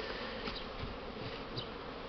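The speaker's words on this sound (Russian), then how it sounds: "Ну, вот это бакфаста пчелка." Buckfast honey bees buzzing around the hives, a steady close hum of many wings with individual bees passing by the microphone, no voices.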